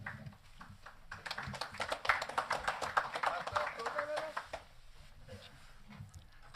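Audience applause after an invocation at a 2023 State of the Town address, a steady patter of many hands clapping that swells, then fades toward the end.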